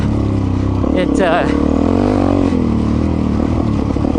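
Suzuki DRZ 400 E dirt bike riding during a race, its engine droning and briefly revving up, heard under continuous talking.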